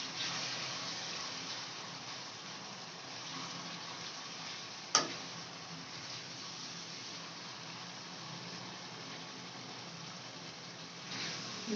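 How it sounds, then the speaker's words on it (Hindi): Ginger garlic paste frying in a pan for khara masala qeema gives a steady, even sizzle that stays constant throughout, with one sharp click midway and no voices. "अदरक लहसुन का पेस्ट जो हमने इसमें 3 चम्मच लिया था वो हमने इसमें ऐड कर दिया है।"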